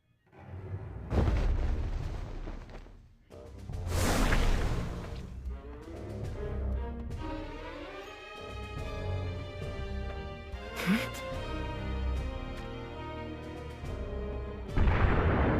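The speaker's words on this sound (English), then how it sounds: "Those are the sounds of Rundal cannons." Rundal cannons firing in a battle on a lake in the game War of the Visions, several heavy booms spaced across the scene over a dramatic orchestral score, with no talking.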